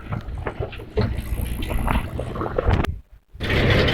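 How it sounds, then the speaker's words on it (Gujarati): A tractor at full speed at night gives a loud, steady engine rumble with rushing wind noise, cutting out briefly near the end before roaring back. "ટ્રેક્ટરમાં ફૂલ સ્પીડમાં આગળ"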